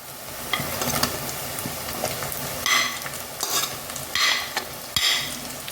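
Onions, shallots, ginger and garlic fry and get stirred in hot oil for a Kerala crab curry, giving a steady close sizzle with soft scraping stirs that rise and fall.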